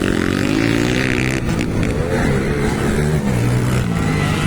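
Motocross motorcycle engines revving loudly during a dirt-track race in Pangantukan, Bukidnon, a continuous high-pitched engine drone with rising and falling pitch throughout, no speech.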